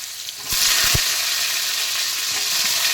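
Cut potatoes dropping into hot oil with a couple of soft thuds, then a sudden loud, steady sizzle that carries on with no talking.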